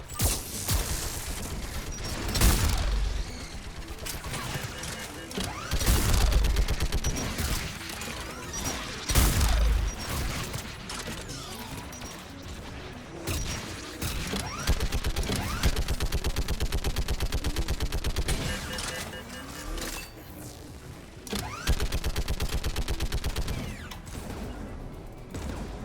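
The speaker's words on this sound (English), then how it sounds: "Mounted turret." Mounted turret firing in the Mass Effect video game: repeated loud bursts of rapid gunfire with metallic mechanical clatter, separated by short pauses over a steady game soundscape.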